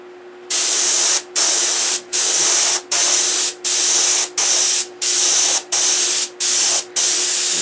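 An airbrush or spray gun lays paint onto a P-47 model fuselage in about ten loud, steady hissing bursts, each lasting under a second and split by short pauses, close to the microphone.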